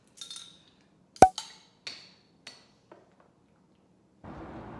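A Peroni beer bottle is handled in a home kitchen: a few sharp glassy clinks and knocks, one loud close tap among softer ones, then a short burst of fizzing or rustle at the end.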